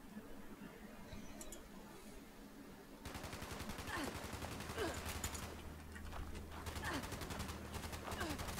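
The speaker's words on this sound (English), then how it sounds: "Why are you shooting at the lady?" Rapid gunshots crack in dense strings from a weapon firing repeatedly, starting faintly and then growing loud and continuous, with a sharp, rattling rhythm.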